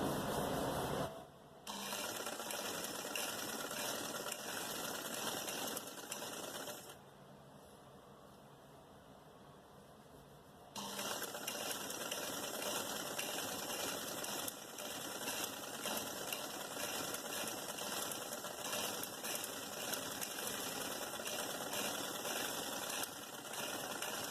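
Sewing machine stitching a cut-work design along a salwar hem: a fast, steady mechanical whirr that runs continuously, drops away briefly in the middle, then resumes, close up with no talk.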